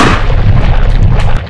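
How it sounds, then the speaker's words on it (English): A nuke detonates in the Area 51 video game with a loud, close, rumbling boom that holds heavy and broad for over a second before easing off, with no speech. "Oh, cool, a nuke!"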